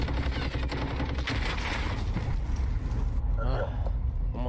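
Gunfire in Call of Duty Modern Warfare, a dense, continuous rattle of automatic weapons with booming low rumble throughout, while a voice talks over the shooting.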